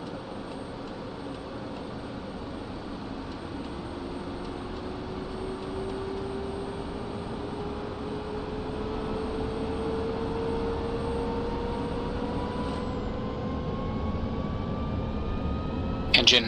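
A jet engine spools up in the DCS flight simulator game, a steady roar with a tone that rises gradually over many seconds, while a voice talks over it throughout.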